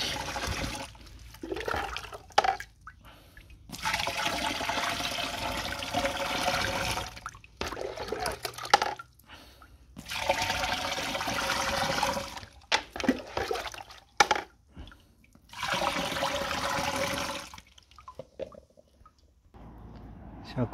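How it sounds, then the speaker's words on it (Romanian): About ten litres of water is poured into a sprayer tank for a tomato insecticide and fungicide mix, making repeated splashing, gurgling pours broken by short pauses and drips, all close by. "Și acum pun restul de apă."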